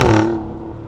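A car's engine and stock, unmodified exhaust rev briefly up close, the throaty drone swelling for an instant and then easing off as the rpm falls, with no talking.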